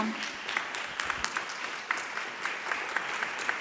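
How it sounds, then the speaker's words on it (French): An audience at a medical seminar on cancer care claps steadily for several seconds, a dense, moderately distant patter of many hands with no voices over it. "On l'applaudit."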